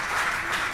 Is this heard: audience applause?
yes